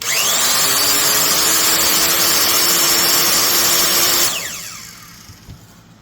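A Makita 3612BR 1/2-inch plunge router runs at a loud steady whine, then switches off and its electric brake spins it down quickly to a near-silent stop, with no talking.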